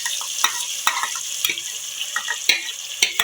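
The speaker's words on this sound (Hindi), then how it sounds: "इसको थोड़ा सा फ्राई कर लेंगे ताकि इसका कच्चापन जो है वो निकल जाए।" A paste of onion, green chili and tomato fries in a pan with a continuous hissing sizzle, punctuated by sharp spoon clacks and stirring scrapes roughly every half second.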